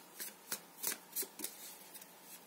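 Tarot cards shuffled by hand in a quiet room, a series of about six soft, crisp riffling swishes at uneven intervals, close and faint.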